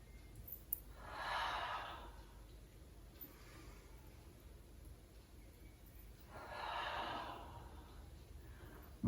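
During a French Pilates class exercise, two slow, soft breaths are drawn in and let out, spaced several seconds apart. They are faint and close against a quiet background.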